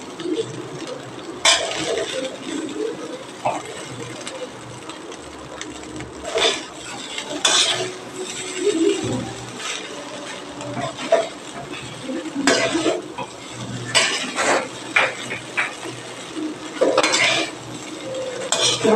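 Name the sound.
stirring chicken fried rice in a pan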